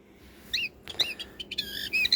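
A bird toy gives a series of short, high, whistly chirps, close and moderately loud, with brief pauses between the calls.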